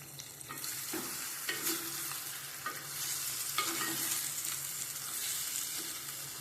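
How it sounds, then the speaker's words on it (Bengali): Meat sautéing with spices in a cooking pot for a dish with hill taro, giving a steady loud sizzle broken by repeated scraping stirs of a spoon against the pot, with no voices. "তাই আমি প্রথমে মাংস দিয়ে দিচ্ছি মাংসটা কষিয়ে নেব"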